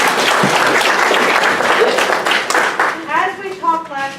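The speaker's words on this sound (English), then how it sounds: "Yeah, you can clap for her now." Audience clapping fills a church gathering, dense and sustained for about three seconds before thinning out as a voice begins speaking over the fading applause.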